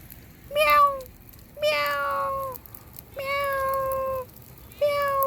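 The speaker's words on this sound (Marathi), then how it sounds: "ही बघा, ही एक मांजर आहे शेतावर आमच्या" A cat on a farm meows four times, each long and drawn out, with short pauses between, close and clear over a quiet background.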